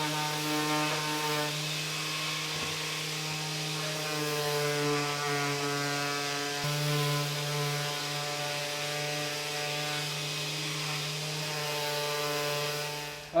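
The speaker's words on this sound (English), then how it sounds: "Now my final bit of work to do is sanding them." A power sander works over wooden cabinet panels with 240-grit paper, giving a steady, droning motor hum with a buzzy tone that runs on unbroken, with two brief knocks partway through.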